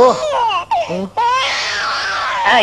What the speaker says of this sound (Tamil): அண்ணே, குழந்தை அழுகுது.